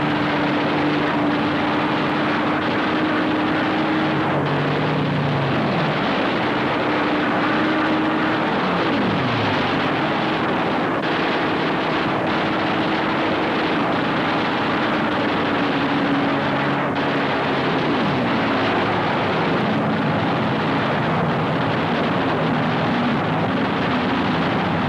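WWII B-25 bombers sweeping in at mast height over shipping, a dense roar of aircraft engines with passing pitch shifts and swooping dives, loud and continuous with no voices.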